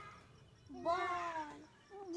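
One drawn-out meow, close and clear, rising then holding steady before fading, with quiet room background around it.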